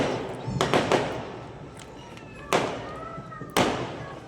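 Diwali firecrackers bursting outdoors, a quick cluster of sharp cracks followed by two separate louder bangs with echoing tails, moderately distant.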